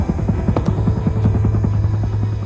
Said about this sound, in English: Audi is trying to make the e-tron GT the best sounding electric car ever made.